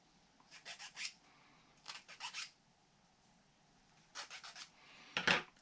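A small wooden part from an UGears Antique Box mechanical 3D model kit is sanded by hand in quiet, close clusters of short scratchy strokes with pauses between them.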